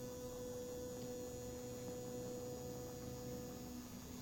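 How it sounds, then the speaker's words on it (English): A high-ampere self-start DC motor runs on printer chargers, giving off a faint, steady electrical hum with a fixed pitch that stays constant throughout, with no one speaking. "Such a high ampere self-start motor is running with the printer chargers"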